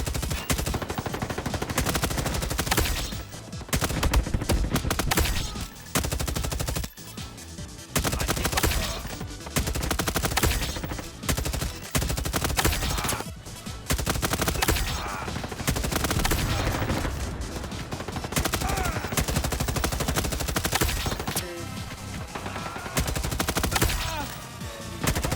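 Rapid automatic gunfire from a Call of Duty MW3 Captain Price weapon in the Roblox game Frontlines, loud bursts of shots repeating almost without pause over the full stretch, with brief gaps between volleys.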